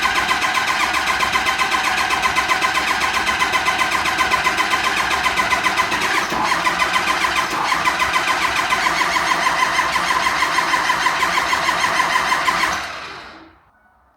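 An old truck engine runs loud and steady close by after starting, a dense mechanical clatter holding for about twelve seconds before abruptly shutting off and fading to silence.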